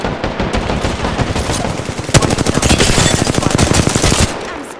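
Loud, dense automatic gunfire from an Apex Legends match, rapid bursts running almost continuously, growing heavier and closer after the midpoint before cutting off near the end.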